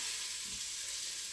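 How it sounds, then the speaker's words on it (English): Onions and chicken sear in hot oil in a pan, making a steady, close, hissing sizzle that holds evenly throughout with no voices. "Already searing. That's how hot that gets."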